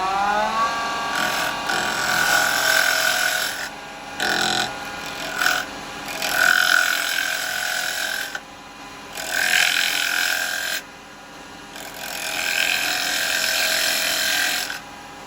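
A carbide chisel cutting a small wooden bowl turned from firewood on a lathe, loud rasping scrapes in several passes separated by short pauses, the motor's hum running underneath.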